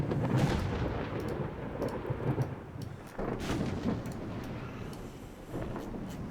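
Rumbling thunder from a storm in a naval warfare video game mod, heavy low booms rolling continuously over about six seconds with a sharp crack near the middle, loud and close, no talking.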